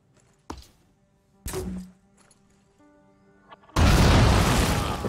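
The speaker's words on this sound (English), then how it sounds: "let's throw a grenade over here, hopefully not destroying his rifle" Grenade explosion in the video game Phoenix Point: a few short thuds and clicks, then a loud, broad blast that roars on for over a second.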